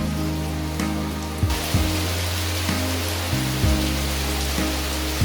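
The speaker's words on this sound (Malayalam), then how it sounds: "പുറത്താണെങ്കിൽ നല്ല മഴ." Heavy rain pours down outside as a steady, even hiss that fills the whole clip, with a low sustained tonal drone running underneath it and no talking.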